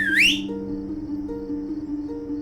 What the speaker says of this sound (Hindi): तुम्हारी सीटी सुन के सारे शहर की लाइट चली गई।